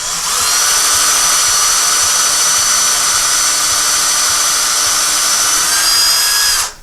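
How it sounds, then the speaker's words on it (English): A power drill whines loudly and steadily for several seconds, close by, boring into a wooden beam with some resistance, then winds down abruptly at the end. "We know we're drilling into a beam."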